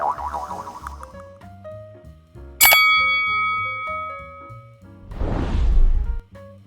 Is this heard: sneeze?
no